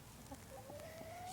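Hens from a backyard flock of nine cluck softly close by, a thin rising cackle running through the last half of a short, quiet stretch with no talk.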